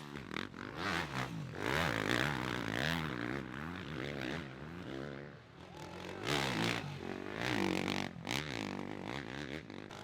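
Several Kawasaki dirt bike engines rev and howl as the bikes race up a steep hill climb at a GNCC off-road event, their pitch rising and falling in overlapping waves, loud and close throughout.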